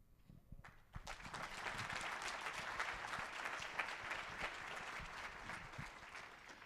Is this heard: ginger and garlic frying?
no